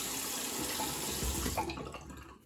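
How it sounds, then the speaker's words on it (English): Water runs from a tap into a sink during a wet shave with artisan shave soap, a steady splashing flow that stops abruptly near the end, leaving a brief drip. "Add a little bit of water to the face."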